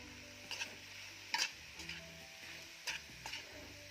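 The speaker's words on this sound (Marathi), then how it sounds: "छान मिक्स करून घेऊयात." Raw young jackfruit vegetable gets stirred and mixed in a pan, with a soft background sizzle broken by several sharp spatula scrapes and knocks against the metal.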